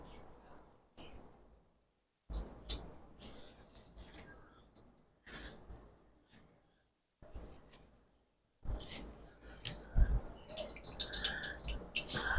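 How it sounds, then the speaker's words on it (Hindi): Water dripping and trickling from grated onion squeezed in a mesh cloth, heard in short bursts of patter separated by near-silent gaps, growing busier and louder toward the end. "ये देखें पानी इससे कितना निकल रहा है।"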